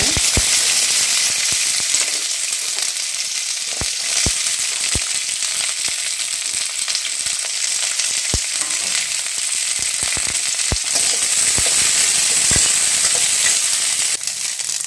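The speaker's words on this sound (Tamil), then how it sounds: "இப்போ கொத்தவரங்காயை வதக்கிடலாங்க." Cluster beans sauté in a pan for chutney, giving a continuous bright hiss of sizzling oil with scattered sharp pops and occasional stirring clicks, close and loud with no talking.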